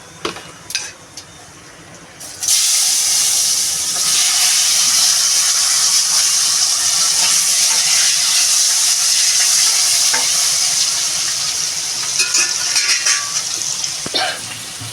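Potato pieces dropped into hot oil in a pan for a Bengali pumpkin-leaf curry, with an abrupt loud sizzle that holds steady and close, plus a few stirring clatters near the start and end, with no speech.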